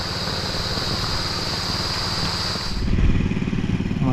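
A motorcycle engine idles nearby on a farm, a steady low putter with a faint high whine that stops partway, after which a rougher, slightly louder engine rumble continues.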